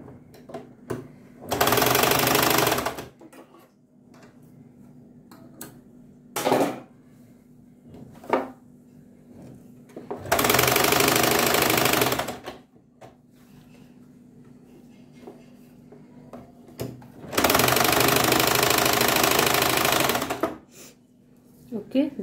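A sewing machine stitching a sailor collar runs in three loud bursts of a few seconds each, separated by quiet pauses with faint handling clicks and occasional talk.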